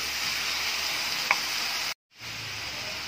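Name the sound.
bitter gourd, onion and garlic sautéing while stirred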